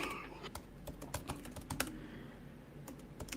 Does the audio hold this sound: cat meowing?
no